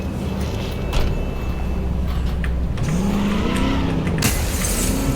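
A pre-order DLC car in Cyberpunk 2077 driving, its engine revving steadily under a droning hum, then rising sweeps as it climbs through gears, close and loud with occasional clunks.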